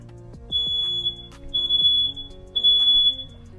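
A smoke alarm being tested sounds three loud, high-pitched beeps in a steady rhythm, each lasting about half a second.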